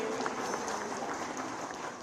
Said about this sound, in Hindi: इसके लिए जोरदार तालियां खन्ना जी के लिए और पूरी टीम के लिए।